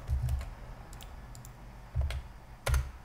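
Typing on a computer keyboard while entering a command, a few short bursts of soft key clicks with pauses between them, close and fairly quiet against a low room hum.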